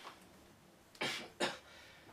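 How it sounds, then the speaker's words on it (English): Two sharp coughs in quick succession from a lone man during a maths lesson, close to the microphone and loud against a quiet room, with no talking around them. "I do apologise, bit of a cough."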